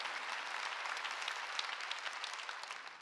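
Church congregation applauding during a Korean sermon, a steady wash of many hands clapping at moderate distance, sustained for a few seconds and easing slightly toward the end.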